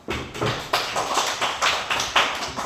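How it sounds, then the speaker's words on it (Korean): An audience claps, with a run of distinct, fairly loud claps in an uneven rhythm, roughly eight strikes spaced close together. "박수 한번 크게 쳐주세요"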